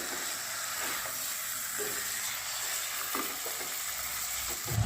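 Chicken pieces frying over raised gas heat in a pan with spices, a steady loud sizzle running throughout with occasional stirring scrapes, close and without talk.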